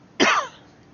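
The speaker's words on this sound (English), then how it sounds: "I don't know why I'm coughing so much." One sharp, loud cough from a person nearby, a single burst that dies away quickly into quiet.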